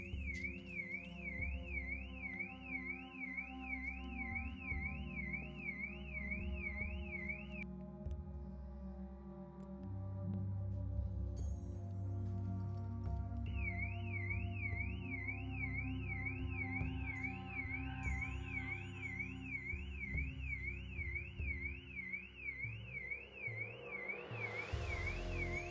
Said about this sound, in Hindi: ये किस टाइम गाड़ी का अलार्म बजने लग गया है?